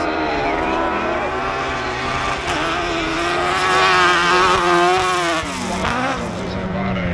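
A loud rally car engine revs and strains steadily at a Latvian hill climb, its pitch rising and falling as it climbs, with gear-change dips and a brief tire scrub near the end.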